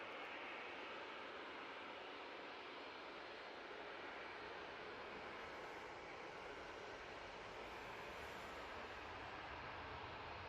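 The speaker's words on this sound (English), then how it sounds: "TUI's down at Victor Delta, now about to spool up" A TUI airliner spools up its engines for takeoff at Manchester Airport, giving a steady, broad, distant jet roar that holds evenly throughout with no talk.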